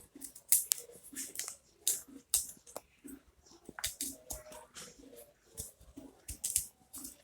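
Fresh turmeric roots are cut into quarters at close range: a series of crisp, irregular cutting snaps and clicks, moderately quiet, with no talking.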